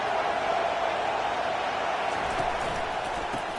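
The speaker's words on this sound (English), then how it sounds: "It is getting loud as this crowd tries to help its defense." A stadium crowd in the college football video game NCAA 25 roars in a sustained, broad wash of cheering while the defense is on the field, loud and steady throughout with no clear talk over it.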